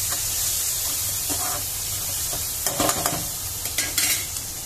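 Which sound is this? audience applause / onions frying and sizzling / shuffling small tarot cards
onions frying and sizzling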